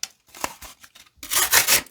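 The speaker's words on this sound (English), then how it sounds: "let's close by cutting through some cardboard" A D2 steel folding EDC knife slicing through cardboard: several short scratchy cuts followed by a longer, louder tearing slice, close and clear with no talk.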